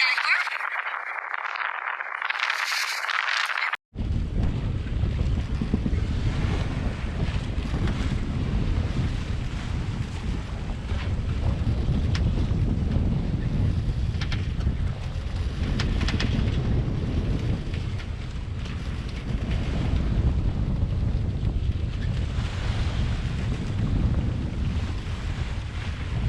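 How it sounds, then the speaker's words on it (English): Strong wind roars steadily across the microphone on a sailboat at sea, a dense, gusting rush with surging swells that continues almost without pause after a brief quiet opening. "Nou, dit is wel wind in mijn beleving, maar oké."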